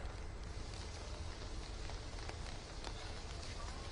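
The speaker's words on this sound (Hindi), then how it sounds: "कितनी तेज बारिश हो रही है" Heavy rain falling steadily during a winter storm in the Kashmir–Himachal region, a dense, even hiss of downpour with scattered drop impacts, continuous and close.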